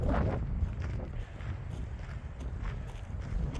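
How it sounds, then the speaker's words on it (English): Cool wind gusts across the microphone on the Ute Pass mountain trail, a steady low rumble that swells and fades with faint rustling, and no clear talk. "the windier it's getting. It's a cool wind too."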